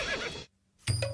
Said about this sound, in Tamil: திருப்புங்கள் குதிரையை.